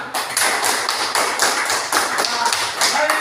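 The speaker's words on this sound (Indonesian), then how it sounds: "Beri tepuk tangan juga untuk kelompok 1 yang sudah bertanya." Students in a classroom clap for group 1, a loud continuous patter of many hands with slight rhythmic surges, close and sustained without pause.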